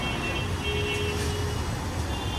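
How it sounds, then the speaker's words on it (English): A car passes along a street beside a yellow storefront, its steady broadband road noise and low engine rumble filling the short stretch at moderate distance, with no talk over it. "A car will always ruin my shot."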